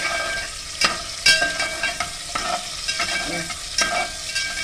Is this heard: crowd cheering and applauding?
no